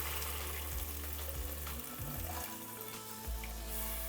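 Water poured into a hot pot of cooked-down tomatoes sets off a steady, quiet sizzle and bubbling, with soft stirring knocks partway through.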